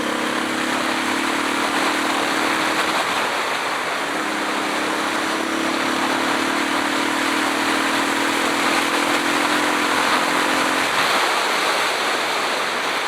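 Motorcycle engine droning at a steady pitch while riding on old tires with an old throttle, buried under heavy roaring wind noise; the engine tone fades near the end.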